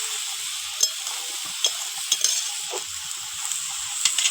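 Fried prawns sizzle in a pan for lau chingri, giving an even, close frying hiss dotted with small crackles and soft utensil taps, with no talk.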